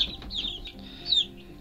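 Young chicks cheep in a few high, thin chirps, two clear bursts over a low background hum, close by and moderately quiet.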